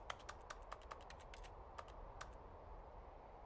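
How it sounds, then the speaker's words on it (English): Rapid left mouse clicks in The Stanley Parable produce keyboard typing sounds, a quick irregular run of crisp key clacks that stops after about two and a half seconds, fairly faint over a steady low hum. "I'm spamming left click and it sounds like I'm typing keys on the keyboard"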